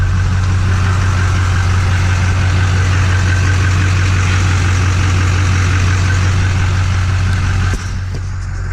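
An LB7 Duramax diesel truck engine idles steadily and smoothly close by, a constant low rumble with no talk, dropping slightly in level near the end.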